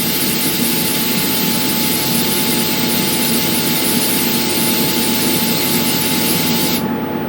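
High-pressure air assist on a 100W laser cutting plywood blows a loud, steady, broadband rushing hiss close by. The highest part drops away near the end while the lower roar continues, with no talking.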